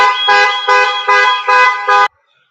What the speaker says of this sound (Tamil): தொட்டாலே கப்ப கப்ப கப்பான்னு கத்துதுமா.